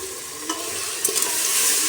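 Dal and vegetables being stirred in a frying pan for khichdi, a soft continuous sizzle with a few light scrapes and taps of the spoon, quiet and close.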